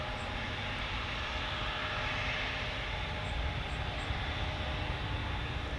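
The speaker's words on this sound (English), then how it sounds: "this Etihad departure" An Etihad airliner departs Frankfurt airport with a steady, rushing jet roar at a distance, broad and continuous, with a few faint high chirps above it.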